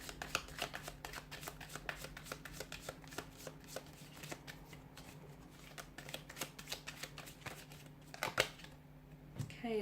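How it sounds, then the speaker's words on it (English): A deck of tarot cards is shuffled by hand nearby, a steady run of soft riffling flicks and papery slaps lasting several seconds with no talking. "give the cards a shuffle here"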